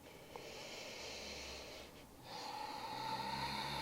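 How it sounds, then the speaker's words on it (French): During a beginner yoga session, someone breathes slowly in and out through the nose, a soft airy hiss that pauses briefly and then returns slightly stronger, close and alone. "prends le temps de laisser ta bouche se fermer, ta respiration se mettre en place par le nez"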